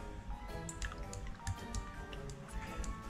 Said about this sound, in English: Let's go ahead and stir that up.